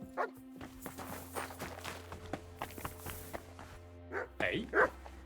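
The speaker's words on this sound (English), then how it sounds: "You better call back that dog!" A dog barks several times in the medieval role-playing game Kingdom Come Deliverance 2, short yaps and woofs over steady game ambience and footsteps, with character voices talking around it.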